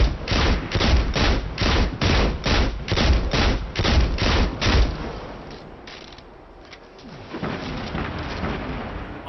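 Rapid rhythmic string of about ten heavy explosive-payload weapon blasts from Destiny 2, loud and punchy, followed by a quieter spell and a few softer scattered detonations with rumbling tails.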